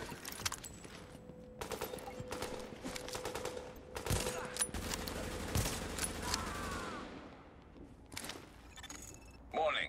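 Bursts of automatic gunfire from The Division video game rattle in volleys with sharp shots, mixed with game effects and voices talking over the action.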